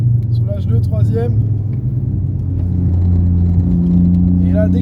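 A car lapping the Mireval race track, its engine humming steadily and then pulling harder, close and loud under almost continuous talk from an instructor.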